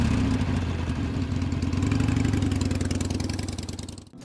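The Jack Daniel's Limited Edition Indian Scout Bobber idles with a steady, close, loud pulsing rumble and a light mechanical clatter, holding evenly before cutting off abruptly at the end.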